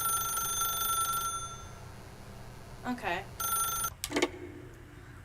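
A telephone rings twice inside The Stanley Parable, in short bell-like bursts over a steady background hum, and a voice says a brief word.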